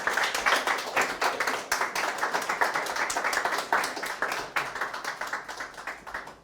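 An audience at a building design panel discussion claps for the panelists, a dense, steady round of applause from many hands that fades slightly toward the end.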